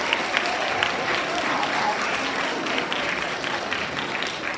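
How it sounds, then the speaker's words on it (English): A large audience gives sustained, dense applause for choir students and soloists at a school concert, loud and even throughout with no voices above it. "A round of applause to all of our choir students and our soloists."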